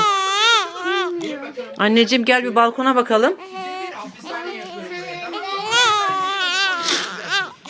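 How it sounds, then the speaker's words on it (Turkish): Baby crying, loud wavering wails close by, alternating with a child's speech and wailing through most of the clip. "Burada ses var. Ağlama sesi var bebek sesi."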